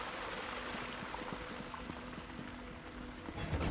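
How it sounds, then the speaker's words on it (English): Quiet, steady flowing water trickles and burbles through an indoor area in ESO Necrom, a soft continuous stream ambience with a faint tonal hum beneath and no voices. "I can hear water, but I don't see a waterfall"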